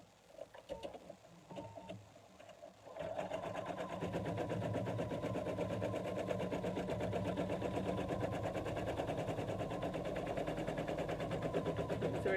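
An embroidery sewing machine stitches a placement line onto stabilizer for a ball snowman, a steady rapid mechanical chatter that starts after a few quieter seconds and runs loud and continuous to the end.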